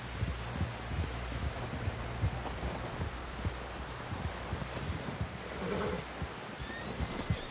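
Horse sounds from Red Dead Redemption 2: soft clip-clop hoofbeats and a faint whinny amid rustling outdoor ambience, fairly quiet and steady, with no talk over them.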